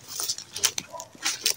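A dog barks in a few short, sharp bursts spread across a couple of seconds, mixed with rustling background noise.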